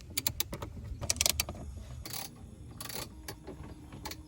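A ratchet works on dashboard bolts inside a Lexus GS300 during an interior teardown, giving quick clicking bursts and metallic rattles at close range.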